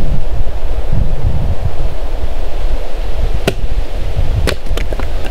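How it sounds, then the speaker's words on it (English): Strong, steady wind roars across an open wilderness shore by the ocean, with constant low buffeting and surf-like rush throughout, plus a few sharp brief clicks and taps near the end. "the wind's not dying down"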